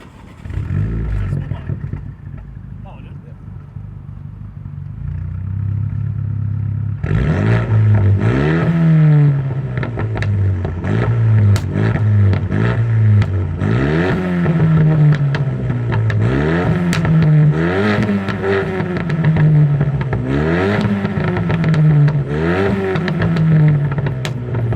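A Renault Megane 265 RS cranks and fires up, then settles into a loud idle broken by repeated sharp revs that climb and fall in regular bursts. People talk over the engine.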